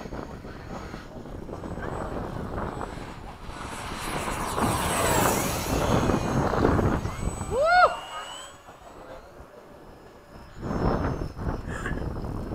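A Freewing 80mm F-5 RC jet on a fast, high-speed flight at a flying field, its turbine-like whine rising and falling as it sweeps past nearby, with wind noise and an occasional voice.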